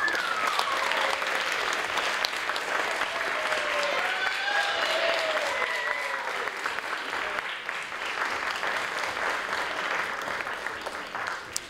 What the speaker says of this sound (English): Give all of our contestants a big round of applause.